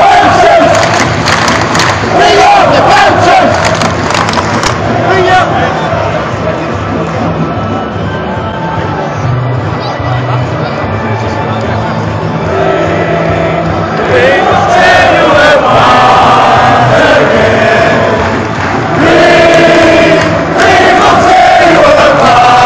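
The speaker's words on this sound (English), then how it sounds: "That is some fantastic support from the away crowd." Bradford City away supporters in a FIFA 15 match sing and chant loudly as a dense, continuous crowd roar with rhythmic swells, steady throughout.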